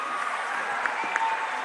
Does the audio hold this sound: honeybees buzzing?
no